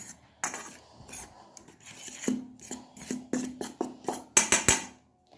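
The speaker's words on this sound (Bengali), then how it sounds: "আবারও হাত দিয়ে ভালোভাবে মিশিয়ে নিচ্ছি" Dry rice flour biscuit dough being mixed by hand, a series of close, scratchy rubbing and crunching strokes, irregular at first and growing louder and more rhythmic toward the end.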